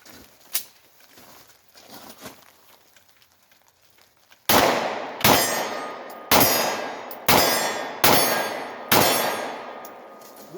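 A Glock 26 pistol is fired one-handed in the offhand during a jamming test, sounding as six loud sharp gunshots at a steady pace of roughly one per second, each ringing out briefly, after quieter clicks and handling noises.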